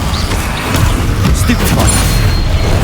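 Confringo and Incendio fire spells cast in the Hogwarts Legacy video game: booming, rumbling magical bursts with bright crackling flares, loud and continuous over a dense low-end roar.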